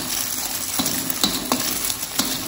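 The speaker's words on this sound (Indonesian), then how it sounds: "Biarkan dulu telurnya agak mengental, mengeras. Habis itu kita orak-arik." Eggs scrambled with garlic in a frying pan for vegetarian fried rice vermicelli: steady sizzling frying with several sharp utensil scrapes and clinks against the pan, close and fairly loud, no talking.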